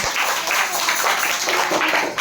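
Schoolchildren in a classroom clapping together for two classmates, a bright, fairly close patter of many hands falling into a loose rhythmic pulse for about two seconds.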